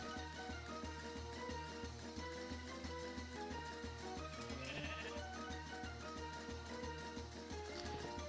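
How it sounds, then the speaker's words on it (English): Sheep bleat in a game scene, layered over steady, pulsing electronic music that plays loudly throughout. "There's 2 sheep. They're coming to get me."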